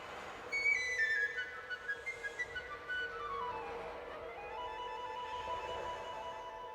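Orchestral flutes imitate wind rushing through treetops with sliding, airy whistling lines and a quick fluttering run of pulses, soft and distant-sounding, rising and falling without any speech.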